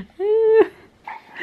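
A pet dog lets out a single drawn-out, nasal whine at close range, followed by a soft, short whimper after a brief pause, in a quiet indoor room.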